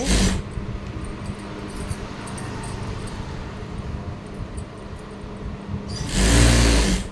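A sewing machine stitches along a fabric lining, a steady close mechanical whir that runs continuously and grows louder near the end.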